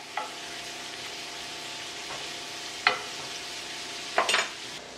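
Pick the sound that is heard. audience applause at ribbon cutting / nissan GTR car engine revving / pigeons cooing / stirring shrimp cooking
stirring shrimp cooking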